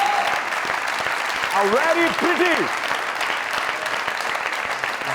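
Studio audience at a comedy show applauding loudly and steadily to welcome an actress, with a voice speaking over the clapping.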